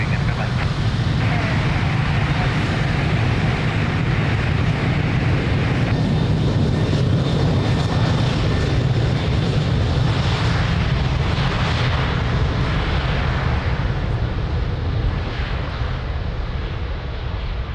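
A jet airliner at Lisbon Airport produces a loud, continuous engine roar with a deep low rumble and broadband rush that holds steady throughout, close and dominant, with voices faintly present beneath it.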